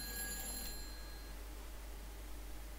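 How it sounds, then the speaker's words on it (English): A telephone in the video game Silent Hill 3 rings with a faint, bright metallic bell burst that fades within the first second, leaving quiet low hum. "Of course the bloody phone rings."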